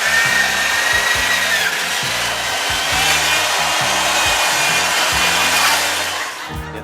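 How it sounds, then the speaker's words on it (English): Loud continuous whine of an old Bosch power drill with a 12mm masonry bit boring into a frozen turkey, with a rhythmic low grinding pulse beneath, ending as it winds down. "just bore a couple of holes. I recommend using a 12mm masonry bit and my trusty old Bosch drill"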